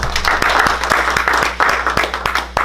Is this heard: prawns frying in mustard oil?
no